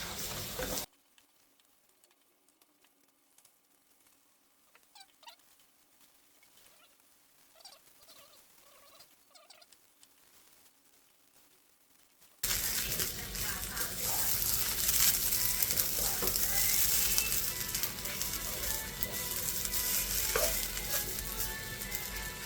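Rice for Singapore chicken rice is stir-fried in a pan, with quiet faint clinks and stirring early on before a loud, dense sizzle and scraping suddenly takes over and continues to the end.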